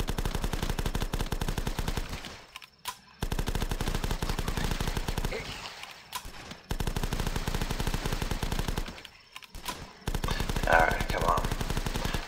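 Rapid automatic machine gun fire in a zombie video game rattles in long sustained bursts, loud and continuous with short pauses between volleys.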